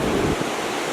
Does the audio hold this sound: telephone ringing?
no